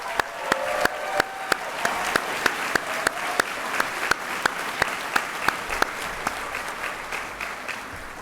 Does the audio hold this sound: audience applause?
yes